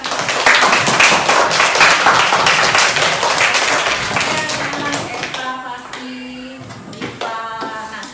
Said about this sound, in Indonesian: kita beri tepuk tangan ya untuk teman-teman kita yang sudah menentukan masalah tadi.